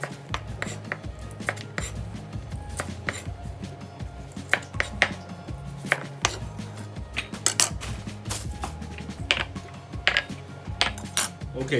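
A knife chops hamburger pickle slices on a cutting board in quick, uneven taps with sharp clicks, close and clear, with no talking.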